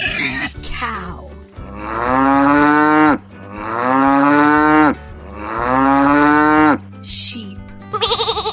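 A cow lets out three long, drawn-out moos in a steady sequence, loud and close, with a light backing tune running underneath.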